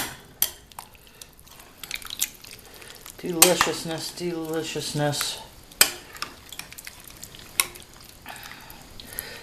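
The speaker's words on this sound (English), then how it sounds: "Okay, we're going to give those a stir." A spoon stirs white cannellini beans in a cooking pot, with scraping and clinking against the pot in bursts and a wet simmer underneath, while someone talks in between.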